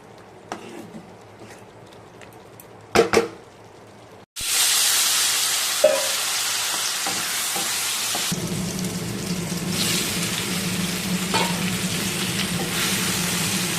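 Soybean and potato curry frying together in a pan in a home kitchen: a few faint clinks first, then a sudden loud, steady sizzle that keeps going to the end.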